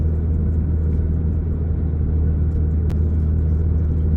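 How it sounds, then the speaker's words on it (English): A car climbing a hill with added throttle, its engine a steady low rumble and road drone that holds close and even throughout, with no voices. "Now I'm going to start going up a hill, so I'm just compensating by giving it a little more acceleration."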